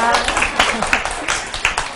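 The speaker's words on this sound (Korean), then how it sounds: "자, 박수 쳐주시게요?" Students in a lecture room clapping together, a dense burst of hand claps close by that keeps up steadily for a couple of seconds.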